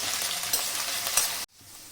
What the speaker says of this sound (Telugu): ఇప్పుడు ఈ బెండకాయ ముక్కలు మంచిగా ఫ్రై అయ్యి తీసి పక్కన పెట్టేసుకుందాం